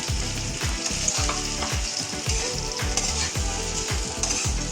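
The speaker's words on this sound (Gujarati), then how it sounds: "મીઠું નાખીને મિક્સ થઈ ગયું છે તો હવે આપણે અંદર સિંગદાણાનો ભૂકો નાખીશું." Crushed peanuts being stirred into potato khichdi sizzling in a pan: a loud, steady frying hiss with rhythmic low scraping strokes of the spoon, close up and with no voices.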